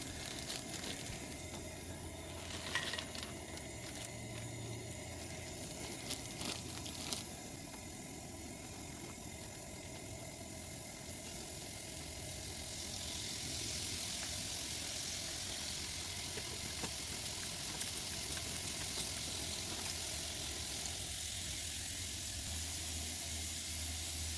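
Shrimp fry in a pan at a camp set up in an abandoned cattle chute, giving a faint, steady sizzle and hiss that grows brighter partway through, with no talking.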